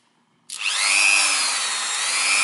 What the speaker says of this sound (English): there is my Dremel, and I start it